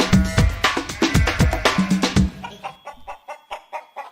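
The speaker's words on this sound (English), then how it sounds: "So we had to have a chicken, didn't we?" Chicken clucking in a quick rhythmic series of close, loud clucks and squawks, roughly a dozen bursts, fading into softer clucks at the end with no talking.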